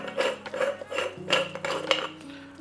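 A Bialetti Brikka moka pot is unscrewed up close. Its metal parts give short grinding scrapes and light clinks in a brief, uneven series.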